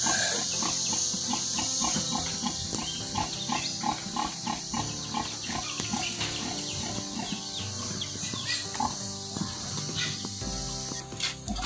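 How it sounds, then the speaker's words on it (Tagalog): Piglets jostle and grunt at a tub on a farm, a dense busy mix of snuffling, squeals and wet suckling noises, loud and continuous with insect-like chirps in the background. "Dumididi yung mga biik, oh."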